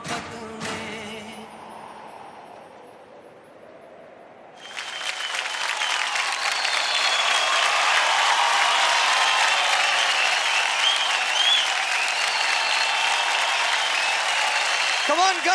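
Loud, sustained audience applause and cheering on a televised dance competition show, rising suddenly after a quieter stretch and holding steady for over ten seconds, with a host's voice beneath.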